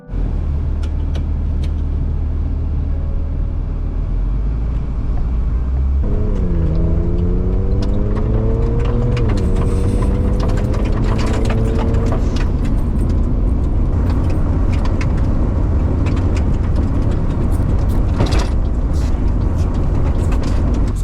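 A Mitsubishi Legnum on a test drive after an oil and coolant service: engine idles, then pulls away with rising revs through gear changes, loud and close from inside the cabin, with occasional rattles and clicks.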